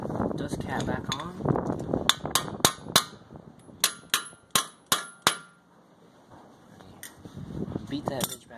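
A series of sharp metallic hammer strikes driving a dust cap onto a Nissan Hardbody wheel hub, about ten in a row with uneven spacing, ring out close by between stretches of speech.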